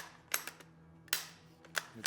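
Rifle bolt worked by hand after a dry fire: a few sharp metallic clacks spaced across a couple of seconds, close and fairly quiet against a still room.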